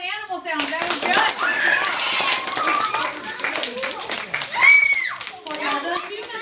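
A small group of people claps for a parrot's animal-sound tricks at a children's birthday party, with brief applause mixed in among lively children's voices and chatter close by.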